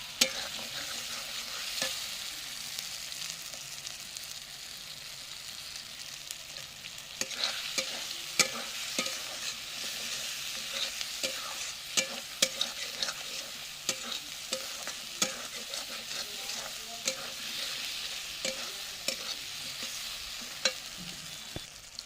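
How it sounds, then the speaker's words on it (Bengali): A spice paste with chopped tomato and green chili is stirred and sautéed in a clay pot for chicken. Steady frying hiss runs under repeated scraping strokes of a spoon against the pot, close and without speech. "দিয়ে দিচ্ছি একটা টমেটো কুচানো আর দিয়ে দিচ্ছি কাঁচা লঙ্কা কুচানো দিয়ে ভালো করে কষবো মশলাটা"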